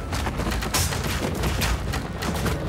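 A volley of massed gunfire from soldiers in the strategy game Game of Empires, a continuous loud crackle of overlapping shots that runs through the whole clip with no gaps.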